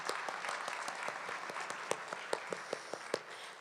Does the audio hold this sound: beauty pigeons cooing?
no